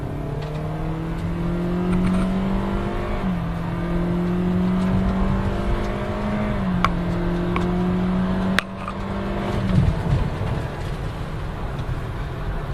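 A 2014 Toyota Corolla accelerating hard from a standstill toward 60 mph, engine whine rising steadily with several gear shifts dropping the pitch, heard from inside the cabin, loud and continuous.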